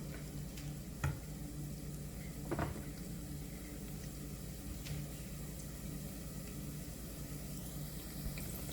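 Garlic sautés in a pan with a faint, steady sizzle and a few soft ticks and taps of a utensil, heard alone.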